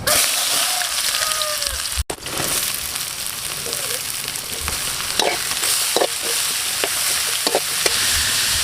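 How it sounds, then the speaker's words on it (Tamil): Chopped onions fry in hot oil with whole spices for a biryani, giving a steady loud sizzle broken by occasional stirring scrapes and clicks, with no talking. "நறுக்கி வச்சு வெங்காயத்தை சேர்த்துக்குவோம்."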